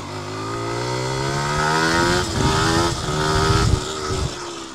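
A car drives past, its engine note rising and then falling away as it approaches and goes by, moderately loud and heard alone.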